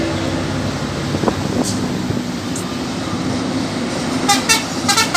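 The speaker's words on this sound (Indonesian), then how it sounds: "dari truknya ngasih klakson teman." A truck horn gives a few short toots on a busy road, close and fairly loud over steady engine rumble and traffic noise, with other heavy vehicles including a bus passing nearby.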